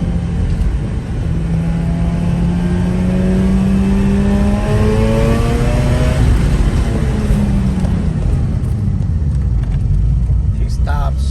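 A Mazda RX-8 rotary engine, fitted with new spark plugs, revs up steadily and loudly up close, its rising pitch sweeping upward as it accelerates and then dropping back, continuous and unbroken throughout.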